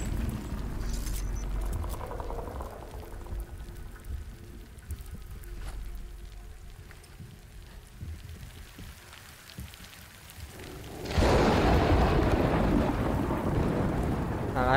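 Heavy rain and rumbling thunder in the Death Stranding video game, a steady downpour holding throughout with a loud surge of wind-driven rain near the end.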